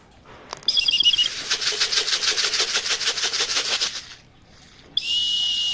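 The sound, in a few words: racing pigeon wings flapping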